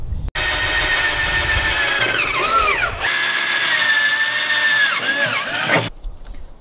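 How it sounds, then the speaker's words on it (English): A power drill whines steadily in two long bursts, pitch dipping as it bites, with a short pause between them; loud and close. "Now I have my starting three holes drilled out"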